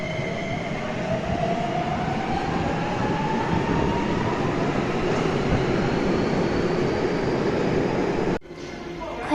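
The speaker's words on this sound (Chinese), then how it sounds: "很喜欢听地铁加速的声音" A Beijing Subway Line 10 train accelerates during the crowded morning rush, its motor whine climbing steadily in pitch over a loud, constant rumble of wheels and carriage noise before an abrupt drop near the end.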